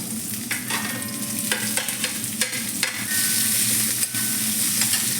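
Coconut oil in a hot pan sizzles steadily, with spoon scrapes and clinks punctuating it and a brighter, fuller hiss rising near the end.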